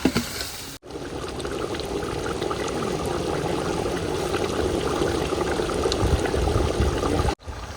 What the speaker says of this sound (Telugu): ఇప్పుడైతే నూనె పోస్తున్నాయి